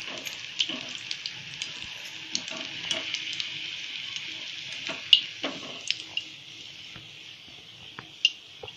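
Capsicum pakodas fry in hot oil, giving a steady, soft sizzling hiss up close, broken by occasional sharper pops and crackles.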